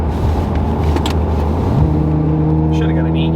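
A Lamborghini accelerates hard and shifts into fifth gear, its loud close engine drone climbing steadily with a rising tone near the end of a few seconds of continuous roar.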